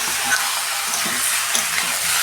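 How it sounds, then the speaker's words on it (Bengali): Chicken sizzles and is stirred in a pan over a low gas flame for a Bihari-style chicken dish, a steady frying hiss with soft scraping strokes of the spoon, close and continuous. "বন্ধুরা, চিকেনটা দিয়ে আমি 5 মিনিট কষতে নেব, গ্যাসের ফ্লেমটা আস্তে করে।"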